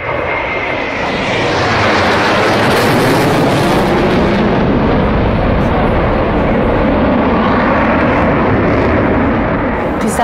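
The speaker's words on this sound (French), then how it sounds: "Les trois derniers avions qui ont passé, c'était vraiment les plus bruyants." Military aircraft fly low over an army day display in Sofia, a loud, continuous roaring rush of jet engine noise that builds and holds for several seconds, close and overwhelming, with no talk.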